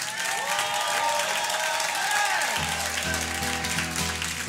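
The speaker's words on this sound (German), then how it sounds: "Publikum rastet einmal richtig aus" At a NightWash comedy show, a crowd claps hard and cheers in a sustained roar. Partway through, music with a low hum rises underneath the applause.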